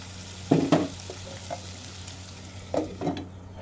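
Ingredients for pinakbet fry in oil in a pan, a steady low sizzle broken by a few louder bursts of stirring or scraping, close and with no voices.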